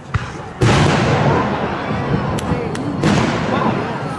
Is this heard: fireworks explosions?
yes